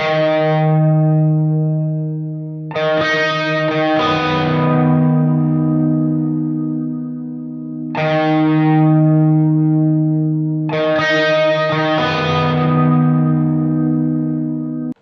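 Clean electric guitar through a Marty Friedman signature Sansamp pedal, recorded with room sound: slow, ringing chords and sustained notes with long decays, repeating in a calm pattern, up close and alone.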